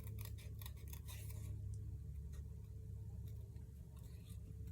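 Scissors snip through paper during fussy cutting for a handmade easel card, a quick run of close, small clicking cuts early on, then a softer low background hum.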